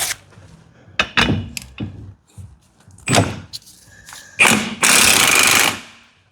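A few hollow clunks and knocks, then an impact gun undoing a 15mm bracket bolt on a MK7 Ford Fiesta rear axle, one loud, close, rattling burst of about two seconds that stops abruptly.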